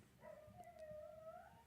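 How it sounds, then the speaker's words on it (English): A dog's drawn-out howl rises and holds steady for over a second in the background, fairly faint, with no talking over it. "As you may hear my dog in the background."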